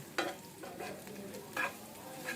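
Red chilies fry in a pan for noodles, a quiet, soft sizzle broken by a few brief louder scrapes and stirs of a spoon, with no voices.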